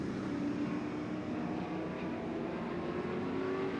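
Race cars roar around Irwindale Speedway, a continuous distant engine drone from the pack at steady level with no voices.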